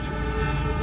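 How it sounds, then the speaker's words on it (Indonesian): The Jayabaya passenger train approaches Waru station in Indonesia with a loud, close, steady rail rumble and a sustained tonal note like a horn, heard briefly. "Dan ini kereta api Jayabaya persiapan melintas stasiun"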